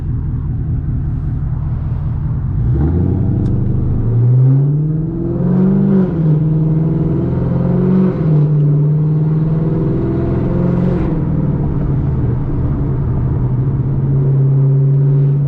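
A Camaro ZL1 engine roars loudly while driving at night, revving up with rising and falling pitch several times before settling into a steady, loud drone.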